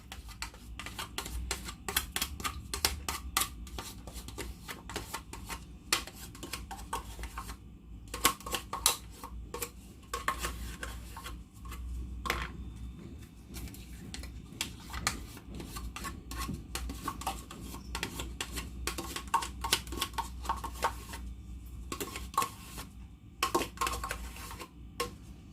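A spoon stirs eggless, butterless chocolate muffin batter with yogurt in a bowl, soft repeated scraping and tapping strokes close by, quiet and irregular under a low background hum.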